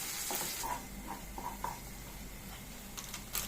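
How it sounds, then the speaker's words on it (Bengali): Ginger and garlic fry in hot oil for a quick ghugni, giving a steady low sizzle with scattered soft scraping and stirring clicks close by, with no talking. "আর আদা রসুন এটা ভেজে নিচ্ছি"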